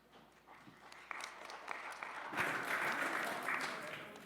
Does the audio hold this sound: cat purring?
no